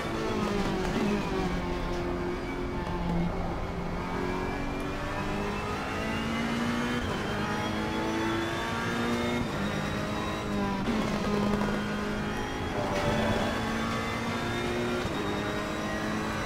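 A Ferrari race car in Assetto Corsa Competizione at Watkins Glen roars steadily, its engine pitch climbing and dropping through gear changes in a continuous, moderately loud drone.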